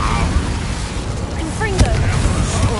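The Incendio fire spell cast in the game Hogwarts Legacy: a dense, loud roaring burst of flame that fills the whole moment, with tonal magical sweeps and a brief sharp crackle partway through.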